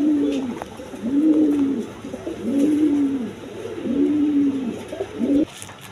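A red pair of Danish pouter pigeons, male and female, coo close by in a slow repeating rhythm of about five drawn-out, swelling coos against quiet background hiss.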